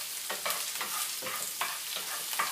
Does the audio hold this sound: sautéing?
yes